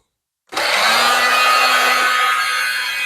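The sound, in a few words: heat gun running to shrink heat shrink tubing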